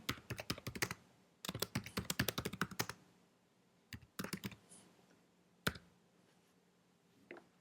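Java code is typed on a computer keyboard in rapid bursts of crisp key clicks, separated by pauses and a few isolated taps, close and fairly quiet.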